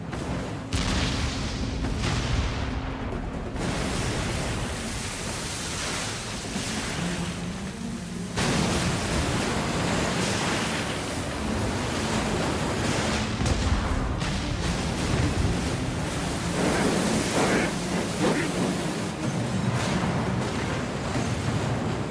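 Ship cannon fire rolls alongside crashing waves in the pirate video game Like a Dragon: Pirate Yakuza in Hawaii, a dense, continuous rumble of booms and surf that stays loud throughout.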